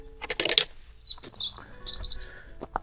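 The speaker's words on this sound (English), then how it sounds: "There's little robins singing. Little blue tits and coal tits" Robins, blue tits and coal tits sing in a lakeside campsite garden in the Lake District, bright chirps and thin whistled phrases, fairly close and clear, a burst of rapid tweets followed by sustained high notes.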